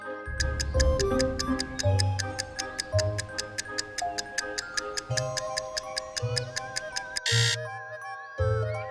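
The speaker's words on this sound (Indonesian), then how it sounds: "Tik-tok." A clock ticks steadily and evenly through a countdown, sharp close ticks repeating about twice a second over a low droning music bed, with a brief louder burst near the end.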